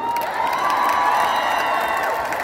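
A festival crowd at a live concert cheers and applauds loudly and continuously, with whoops and shouts layered over steady clapping nearby.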